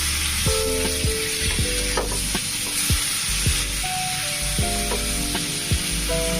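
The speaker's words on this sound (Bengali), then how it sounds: "এটাকে আমি এখন মশলাটার কাঁচা গন্ধ চলে যাওয়া পর্যন্ত ভেজে নেব" Ginger, garlic and green chilli paste fries on a low gas flame, giving a steady close sizzle and crackle with a few sharp pops and spatters throughout. No one speaks.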